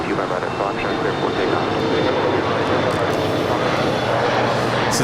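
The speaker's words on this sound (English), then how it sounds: "So the Korean Air Cargo will be departing on 25 right." A Korean Air Cargo jet takes off from runway 25 right at LAX, a loud, steady broadband roar of jet engines holding through the whole stretch, with voices faintly present beneath it.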